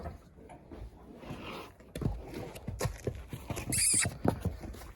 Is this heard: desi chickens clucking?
no